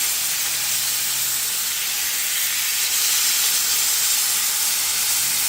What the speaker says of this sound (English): Just sear this bad boy up.